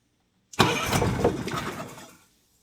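A Nissan 15 outboard motor cranks and catches, running loud and rough for about a second and a half before cutting out.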